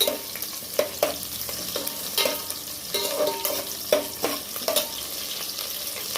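Onions fry in a pan for a home-style vegetable biryani, giving a soft continuous sizzle broken by clattering stirs at irregular intervals, fairly close and with no voices.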